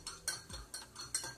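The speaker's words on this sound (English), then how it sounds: "I'm gonna take a spoon and mix it well." A metal spoon stirs a hot orange drink in a cup, clinking against the sides in a rhythmic series of about five quick taps with a soft swirl between them.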